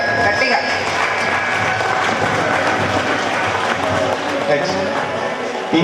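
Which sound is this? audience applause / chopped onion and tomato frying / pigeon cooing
audience applause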